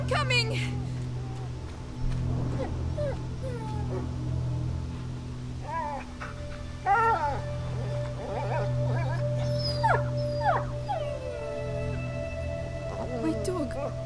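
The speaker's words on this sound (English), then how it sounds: "My dog." A dog whimpers and howls in the medieval-set video game A Plague Tale: Innocence, with several short rising and falling cries over a steady low hum, and voices speaking in between.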